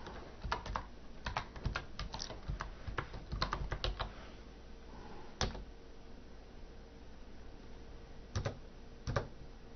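Someone types on a computer keyboard nearby, with fast irregular bursts of key clicks in the first four seconds, then a few isolated taps separated by quiet pauses.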